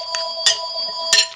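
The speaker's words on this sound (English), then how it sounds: "Oh, there goes the phone." A telephone rings in a home kitchen, two short bright trilling bursts with a faint tonal buzz between them, fairly close and clear with no talk.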